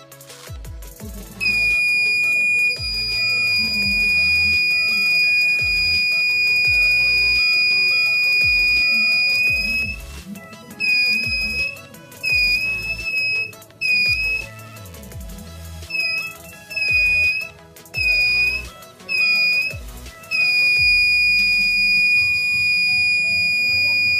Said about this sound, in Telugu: నేను లేజర్తో ఎల్డిఆర్ మైన పాయింట్ చేయగానే అక్కడ బజర్ అనేది ఆగింది